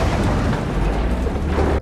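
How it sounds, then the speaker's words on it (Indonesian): A small Coca-Cola and Mentos explosion inside a car, a loud dense burst and rush that holds steady before cutting off abruptly. "membuat ledakan yang sangat kecil."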